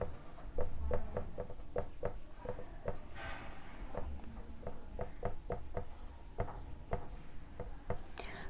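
Chalk or marker writing on a classroom board: rapid, repeated scratchy strokes and taps in an uneven rhythm, close and steady, with a brief smoother rubbing stretch partway through and no talking over it.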